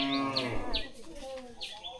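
Cattle kept for the Eid al-Adha sacrifice low and moo at close range, several drawn-out calls over a couple of seconds with faint chirps and a voice in the background.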